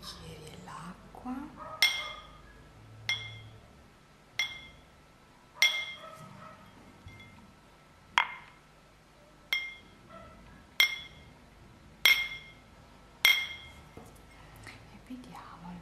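Water glasses are struck one at a time in a quiet relaxation setting: about a dozen bright, ringing clinks spaced a second or two apart, each trailing off, with faint breathy whispering in the background.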